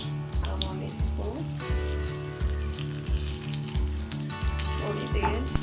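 Cumin seeds sizzling in hot oil as a tadka for pakoda kadhi, a close, steady crackling fry with a rhythmic stirring or tapping pulse underneath.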